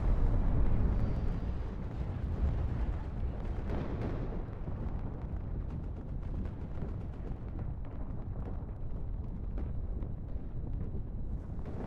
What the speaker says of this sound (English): Nice strikes there from artillery. There you go, more bombing runs.